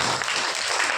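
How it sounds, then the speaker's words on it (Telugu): A church congregation applauds during a pastor's sermon, a short burst of steady, moderately loud clapping with no voices over it. "చప్పట్లు కొట్టి"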